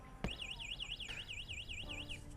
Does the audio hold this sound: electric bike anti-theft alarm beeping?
yes